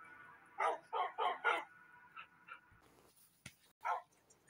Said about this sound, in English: Max, give me some towels and we get these dogs cleaned up.